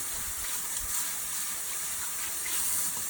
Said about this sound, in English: And now we're going to rinse off his foliage.